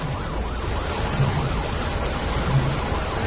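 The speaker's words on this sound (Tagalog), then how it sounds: "Para thunderstorm lang yan." A thunderstorm drenches the city with a loud, unbroken rush of rain, while deep low rumbles roll beneath the downpour.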